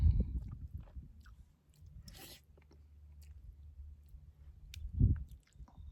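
Someone chewing ramen noodles while eating outdoors in the wilderness, with soft, close, wet chewing and a few crunchy bites, a louder bite near the end, in quiet surroundings with no talk.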